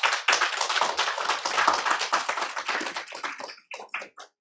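Audience applause at a school board meeting, many hands clapping in a dense burst that holds steady, then thins to a few scattered claps and stops, close and fairly loud.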